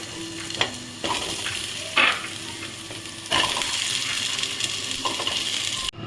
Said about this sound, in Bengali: এই তেলেই আমি আলুগুলোকে ভেজে নেব